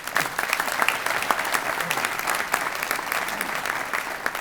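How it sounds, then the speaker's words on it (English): Audience at a morning community breakfast gathering claps for guests, a moderate, steady round of applause with a fairly uniform, slightly uneven texture, no speech over it. "let's give all them a round of applause"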